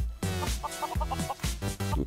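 Chickens on a Minecraft chicken farm cluck close and loud in a quick run of short, repeated calls with no talk over them.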